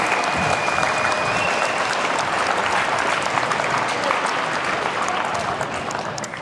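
An audience at an ice hockey awards ceremony in an ice arena claps in sustained, dense applause that stays strong throughout and eases slightly toward the end.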